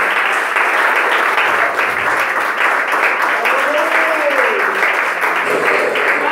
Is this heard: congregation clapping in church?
yes